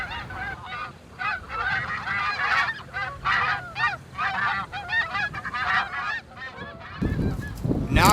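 Canada geese honking loudly in a dense, overlapping chorus of nasal calls, continuous and fairly close, with a burst of louder noise at the end.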